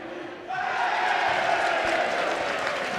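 At a high school girls' basketball game between Holy Angels and Becker, the gym crowd swells suddenly into a sustained roar of applause and cheering for the officials, filling the hall at steady volume.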